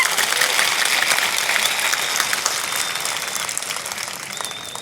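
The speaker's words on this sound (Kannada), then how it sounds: "ಇಷ್ಟು ಸಣ್ಣಗೆ ಚಪ್ಪಾಳೆ ಬಡಿದ್ರೆ ಉಪಯೋಗ ಇಲ್ಲ" Loud, dense applause from an event audience at a temple fair gathering, steady crackling claps filling the whole stretch without voices and easing slightly toward the end.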